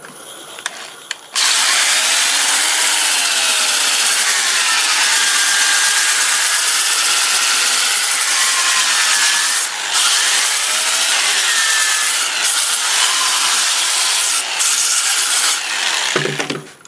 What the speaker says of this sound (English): I'm just going to use my 2-inch disc, starting with 80 grit